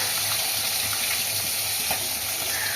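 Kolkata-style ghugni, salted, sizzling and bubbling steadily in a pot, a continuous close hiss with soft low bubbling throughout and no voices.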